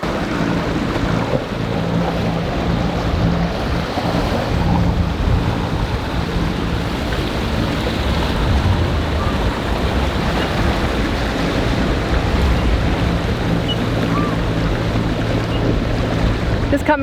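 Sailing boat motoring on a single engine into a marina, a steady low engine drone mixed with wind buffeting the microphone and water wash, continuous and fairly loud with no talk.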